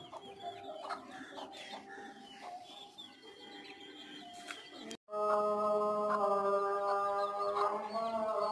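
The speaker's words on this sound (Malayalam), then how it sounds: "പൂവൻകോഴി ആദ്യമായിട്ടാണ് കേട്ടോ ചാടാൻ നിൽക്കുന്നത്" Hens and a rooster kept on a rooftop terrace cluck nearby. Scattered soft clucks come first, then louder, drawn-out calls follow after a brief gap, with no talking.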